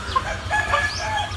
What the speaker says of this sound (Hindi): ये बड़े खूबसूरत मुर्गे हैं